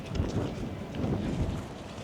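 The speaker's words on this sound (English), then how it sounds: "It just got very windy up here." Strong wind gusts across an elevated outdoor spot at a Cancun resort, heard as a loud, continuous broadband rush that swells twice and has no voices over it.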